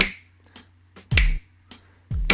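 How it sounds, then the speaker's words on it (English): A basic drum beat plays back for practice. Slow, evenly spaced hits alternate a deep kick with sharper snare-like strikes, each followed by a short low ring, with quiet gaps between them. "this is just a super basic drum beat I recorded for some practice a while back"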